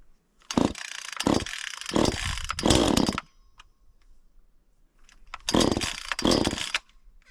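Echo CS-400 chainsaw pull-started in short bursts, then catching and revving loudly twice with a quiet idle gap between, close up with no talking.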